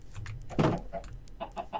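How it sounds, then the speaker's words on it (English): Minecraft chickens cluck in a run of short, choppy game-sound bursts, one louder squawk standing out among the lighter clucks, close and clear without any talk. "I don't trust you little chickens anymore"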